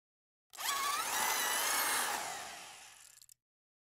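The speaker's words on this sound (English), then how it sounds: "Drill a hole at the top of the tank." A short power-drill burst whirs up loudly while drilling a hole in the top of a water tank, holds for about two and a half seconds, then winds down and stops, with nothing else around it.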